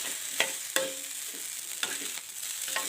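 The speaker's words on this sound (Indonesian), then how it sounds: "Kita masak nasi goreng." Spicy fried rice with wild boar meat being stir-fried over a low flame, with a steady close sizzle of frying broken by a few sharp scrapes and clacks of the utensil against the pan, no talking.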